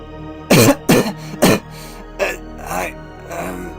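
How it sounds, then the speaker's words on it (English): Three sharp, close coughs in quick succession, followed by weaker, rougher coughing sounds that fade. "coughed out blood and frailly spoke"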